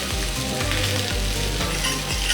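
Garlic, ginger and curry powder frying in oil in a pan, a steady loud sizzle with faint rhythmic stirring scrapes, no voices.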